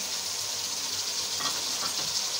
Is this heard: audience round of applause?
no